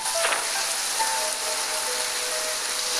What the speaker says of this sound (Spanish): Uy, estoy lloviendo. Uy, me encantan estos juegos cuando llueve.